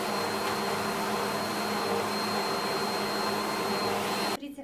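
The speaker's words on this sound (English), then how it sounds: "So main point, I'm happy with vacuum cleaner." A Bissell Powerforce Helix Turbo vacuum cleaner runs with a steady, loud motor whine and airflow hiss, then shuts off sharply at the very end.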